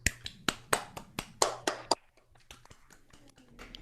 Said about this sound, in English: Let's give our pageant players a rousing round of applause.